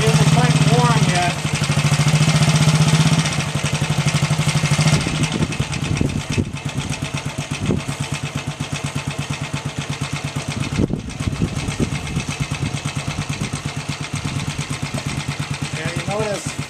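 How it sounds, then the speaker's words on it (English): A Ducati 160 motorcycle engine, not yet fully warm, idles without the choke on, a loud, close, steady single-cylinder putter with uneven beats throughout. "Now she'll idle without the choke on."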